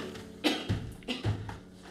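Several short, sharp coughs in quick succession, close and fairly loud, with brief pauses between bursts.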